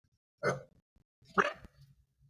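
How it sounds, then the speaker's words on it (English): Two sharp dog barks, spaced about a second apart, fairly close, with quiet gaps and faint low rumble between them. "What the hell are you barking at?"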